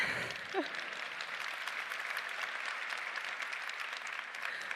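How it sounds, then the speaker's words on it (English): An audience at a VR developer keynote applauds steadily, a dense wash of clapping from a large crowd heard at a distance and sustained throughout. "Yeah, you can clap for that."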